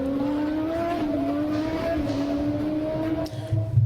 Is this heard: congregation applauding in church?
no